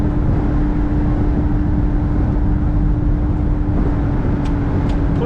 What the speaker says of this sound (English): Started right up, idled right away.